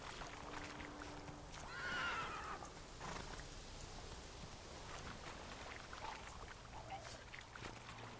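A horse in The Witcher 3 neighs and whinnies, followed by soft rhythmic clip-clop hoofbeats under a faint rain-like patter, everything quiet and distant.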